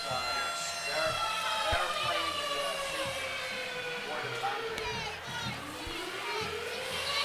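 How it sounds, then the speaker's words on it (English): A stadium siren wailing after a touchdown at a high school football game, Newark Wildcats at Lancaster Golden Gales, a loud, sustained rising and falling tone under a commentator's talk and crowd noise. "They've got the siren blaring for the touchdown."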